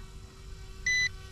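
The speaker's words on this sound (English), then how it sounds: "The slow beep is low battery." A single steady electronic beep sounds from an EC135 model helicopter as its slow low-battery warning, one tone lasting about a fifth of a second over a faint background hum.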